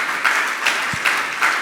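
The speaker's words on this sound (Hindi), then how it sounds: "तालियां तो बजाइए आप लोग।" Audience applause at a Jain monk's question-and-answer session, heard as a steady clapping wash that swells in a few periodic surges over a short stretch, with no voices.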